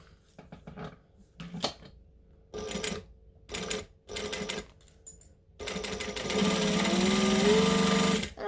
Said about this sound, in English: So I'm going to fold both of those down. And I'm going to top stitch.